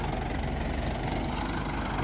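An MTZ tractor engine drones loudly and steadily with a low, chugging rumble and no pauses, while sowing sunflowers in a field.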